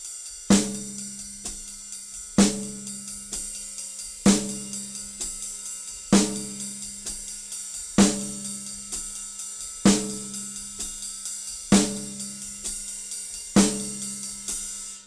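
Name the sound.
drum kit pattern: 16th notes ride, snare on 2 and 4, left-foot quarters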